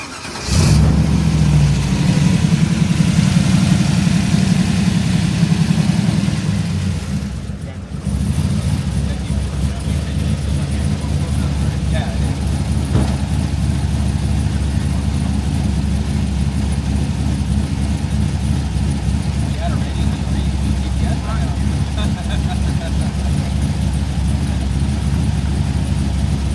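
A Ford F-100 truck with a big turbo rumbles loudly, nearby and steady, with a heavy low engine drone that dips briefly after about eight seconds before settling into a sustained idle-like roar.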